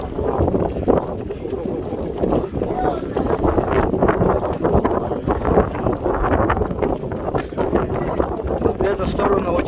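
Strong headwind along a marathon course batters a moving microphone with a continuous deep, gusty rumble that pulses unevenly, while a person talks underneath.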